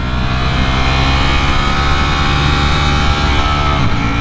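A Ducati Streetfighter V4 motorcycle engine runs loud and close on the road, holding a sustained, strained roar with a steady whine over wind rush.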